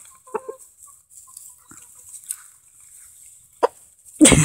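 A farm rooster gives a few short, scattered clucks, near and moderately loud, with quiet gaps between them and a louder rustling burst at the very end.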